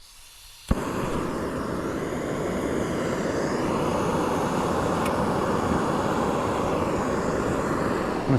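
MSR Pocket Rocket backpacking stove lit outdoors, a click of ignition then a steady, loud, close roaring burner hiss that holds evenly for several seconds.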